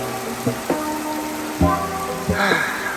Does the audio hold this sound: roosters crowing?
no